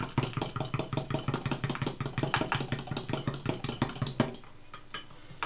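A fork mixes macaroni and cheese ingredients with milk in a bowl, making a quick run of steady clinking, scraping strokes up close for about four seconds before stopping.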